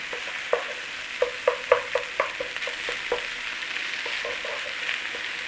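Cold cooked rice fries in a pan for corned beef dirty rice while a utensil breaks up the clumps, sharp rhythmic tapping and scraping knocks over a steady gentle sizzle, no talking heard.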